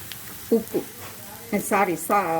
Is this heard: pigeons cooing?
no